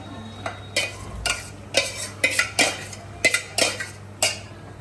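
A spoon scrapes and clatters in a pan as capsicum and onions are stirred into bhaji gravy, about a dozen sharp, uneven strokes close by with a soft sizzle underneath and no talking.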